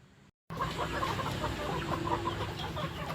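A flock of vaccinated farm chickens kept by a poultry raiser clucks steadily and close, many birds overlapping in a dense, continuous chatter after a brief gap at the start.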